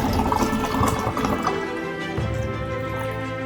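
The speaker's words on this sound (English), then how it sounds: "I'm gonna fill this one with water" Water pours continuously into a container, a dense splashing, gurgling flow close to the microphone that softens and settles as the container fills.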